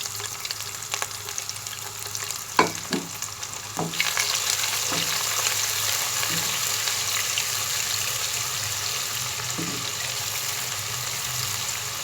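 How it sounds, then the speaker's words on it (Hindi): Sliced onions fry in a pot with garlic-ginger paste, a steady dense sizzle that jumps louder as they go in, with a few clinks and scrapes of a stirring spoon and no talking. "अब हम इसमें प्याज डाल देंगे।"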